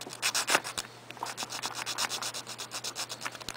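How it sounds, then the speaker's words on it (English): A flat file scrapes back and forth over a resin part for a 1/48 Gundam model kit, producing a quick, steady rhythm of close, raspy strokes with no voices. "And then you take a flat file. Let's see. Sorry guys. And you just start filing it down."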